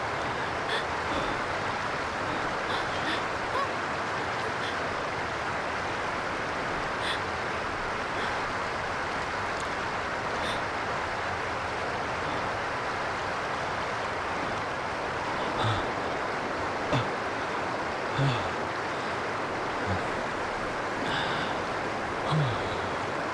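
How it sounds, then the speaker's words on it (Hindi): Constant roaring rush of a waterfall, loud and close, a dense wash of falling water sustained with little change, with a few faint clicks and knocks over it. "यार ये झरना तो बहुत डरावना।"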